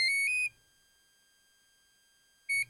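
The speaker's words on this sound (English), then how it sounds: "those series of beeps are to set what program you want" Programming beeps from a Seaking 40 A electronic speed controller: a two-tone electronic beep sequence stepping up in pitch, a long silent gap, then one more short beep.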